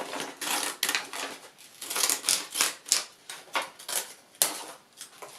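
Scissors snipping construction paper into dog ear shapes, a close series of crisp crunching cuts in an uneven rhythm with short pauses between strokes.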